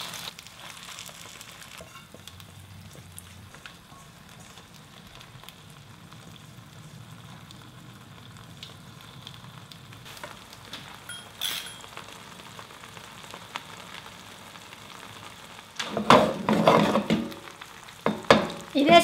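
Perilla leaf pancake frying in about three tablespoons of oil in a 12-inch non-stick skillet, a soft steady sizzle that swells into louder crackling spatter near the end, close by.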